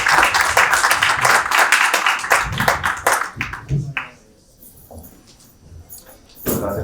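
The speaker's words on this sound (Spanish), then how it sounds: "y un aplauso para ellos." An audience at a book presentation on Holy Week in León, held in an El Corte Inglés store, claps in a dense burst of applause that thins and dies away after about four seconds, leaving near silence with a few stray claps.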